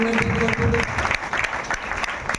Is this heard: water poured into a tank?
no